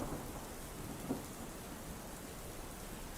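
Steady rain patters over a low rumble of thunder in a tabletop roleplaying session, with one brief swell in the rumble, continuous and moderately loud with no voices.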